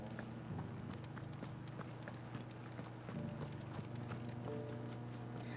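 Steady clip-clop of a horse's hooves while riding in a video game, a rapid, even rhythm with game background sounds and a voice speaking over it.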